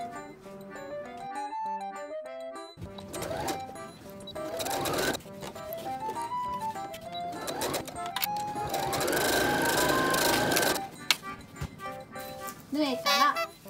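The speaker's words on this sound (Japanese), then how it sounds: "金具を下向きにして布端から5ミリのところにファスナーを縫い付けます。" A sewing machine stitches a zipper onto fabric 5 mm from the edge, its hum running in a few bursts of several seconds each over steady background music.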